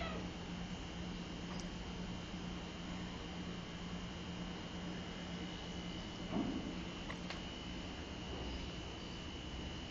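A cat playing with catnip meows a few times, indoors, the calls faint under steady background noise with a brief louder moment near the middle.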